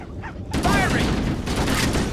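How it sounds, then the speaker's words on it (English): Stationary guns fire in the video game Halo: Combat Evolved, a loud continuous volley that starts abruptly after a brief lead-in and keeps rattling throughout. "Those stationary guns are gonna tear us to pieces!"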